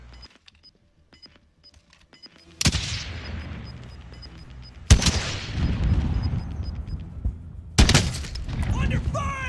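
Video game gunfire cracks out in three sharp, loud bursts a couple of seconds apart, each trailing off into rumbling echo, with faint ticking and scattered pops between them.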